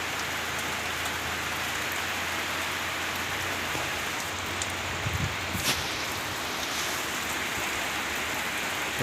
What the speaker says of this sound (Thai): ฝนตกเล่นลงเรื่อยนี่แหละเขา